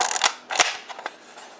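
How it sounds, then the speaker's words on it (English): A Kodak Instamatic camera, tested empty without film, gives several sharp mechanical clicks as its shutter is cocked and fired. The clicks are close and crisp, with a brief pause between them. "you cock the shutter without film"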